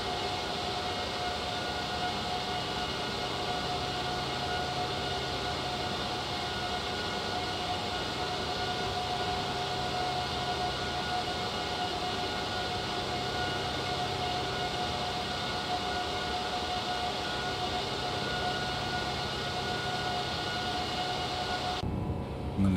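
Steady jet engine roar of an airliner heard from the exterior view in X-Plane 12, flying fast after flaps and slats retract; a constant, loud broadband drone with a tonal whine holding throughout, cutting off abruptly at the end, no talk.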